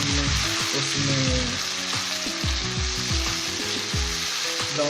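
Garlic, ginger and tomato paste fry with browned onions in a pan, giving a loud, close, continuous sizzle broken by frequent stirring scrapes and clatters of the utensil, with no talking.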